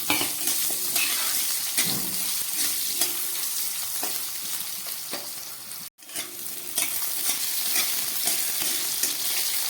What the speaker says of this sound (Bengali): এই তেলের মধ্যে আমি আলুগুলোকে একটু ভেজে নিচ্ছি